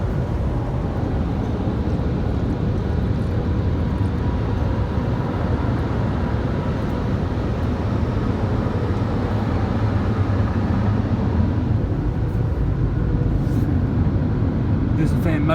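Side dryers and a rotary roof jet in a WashTec SoftLine 2 car wash tunnel roar as a steady, loud, broadband blowing noise throughout, with someone talking over it.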